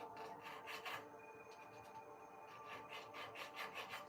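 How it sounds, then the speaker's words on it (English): Scratch awl scoring marks into cedar wood, a faint series of short, close scratching strokes in uneven rhythm, quiet and near with no talk. "I'll use my scratch awl a couple points."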